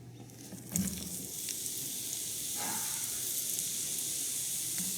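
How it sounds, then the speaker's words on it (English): Sliced onions hit a hot pan with a thud and then sizzle steadily and loudly throughout, a broad continuous hiss with a few faint stirring knocks, and no talking. "we're going to add our onions"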